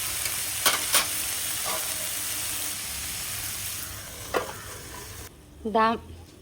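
Okra (bhindi) with chopped coriander simmering in a covered pan over low heat, a steady soft sizzle throughout with a few brief stirring knocks and a short scraping sound near the end.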